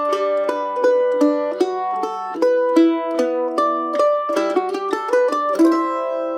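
Guitar melody played legato, each fretted note held down until the next one forces its release, so the plucked tones ring into one another in a smooth, connected line, played alone and close.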